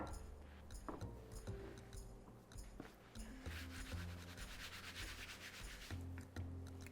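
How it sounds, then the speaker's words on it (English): Pastry dough rolled out on a floured surface, a quiet, close, rhythmic rubbing and rolling with soft knocks of the pin, repeated strokes and no talking. "and then I'm just gonna roll it out."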